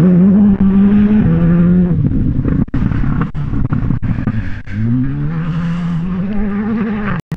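A Skoda Fabia rally car on a gravel stage roars loudly and close, its engine rising and falling through gear changes, with brief cuts between shifts and the revs climbing again as it passes.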